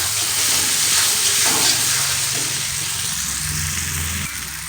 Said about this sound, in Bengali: আমার কিন্তু আলু মশলা কিন্তু একদম কষানো হয়ে গেছে